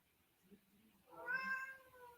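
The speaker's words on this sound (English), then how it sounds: "So there's the cat again" A cat lets out a single drawn-out, wavering meow, fairly close and clear, after a quieter stretch of low background sound, picked up during a boxing broadcast.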